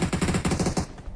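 Rapid automatic gunfire from PUBG Mobile, a close-range burst of evenly spaced shots lasting under a second, then stopping abruptly with only a faint tail afterward.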